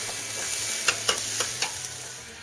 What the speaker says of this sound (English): I'm going to throw them right over the hot coals. Get a sear on them.